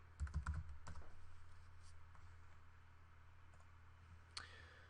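A computer keyboard clicks in a quick burst of keystrokes as a username is typed into a tournament software login screen, fairly close, then quiet room hum remains.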